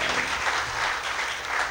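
Dense, loud applause from an audience at a community gathering honouring donors, a steady wash of many hands clapping throughout, close and continuous.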